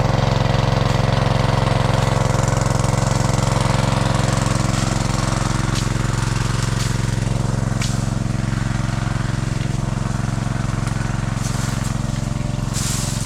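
A boat engine just installed runs steadily in a water setting, a loud, continuous mid-pitched drone with a knocking pulse that stays constant throughout with no speech over it.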